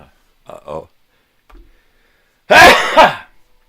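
After a few quiet murmured sounds, a loud, rough double cough or sneeze erupts close to the microphone following a bong hit, two harsh bursts in quick succession.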